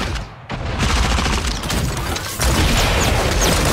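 Dense bursts of gunfire in Super Mecha Champions crackle loudly and continuously, with a brief lull near the start before the shooting resumes.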